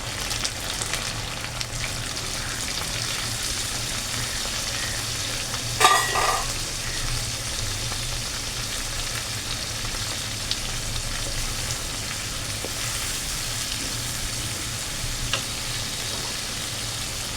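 Spice masala frying in a pan with tomato and three green chillies, a steady close sizzle with stirring throughout and one brief louder scrape near the middle, no voices.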